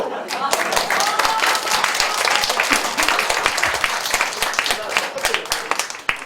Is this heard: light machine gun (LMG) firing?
no